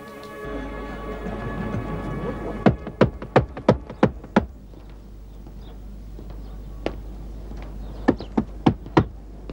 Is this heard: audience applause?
no